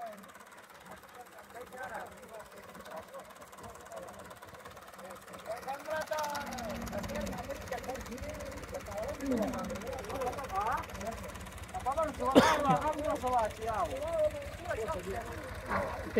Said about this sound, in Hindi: ये पीछे टक्कर दे रहा है ट्रैक्टर।